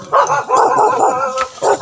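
A tied-up dog barks repeatedly at close range, loud and insistent, in a run of several barks with brief pauses between them.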